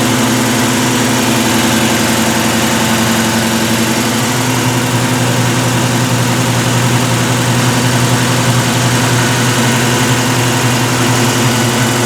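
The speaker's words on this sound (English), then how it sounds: "Engine's cold, we're gonna wait till it warms up." A cold car engine idles just after a carburetor-to-Sniper EFI fuel injection conversion, giving a loud, steady, close rumble with an even low hum throughout and no voices.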